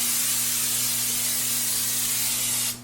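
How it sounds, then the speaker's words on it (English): Olive oil cooking spray hisses onto a pan in one steady, close burst lasting nearly three seconds before cutting off, with a faint electrical hum underneath. "I'm going to go ahead and spray my pan with just olive oil spray"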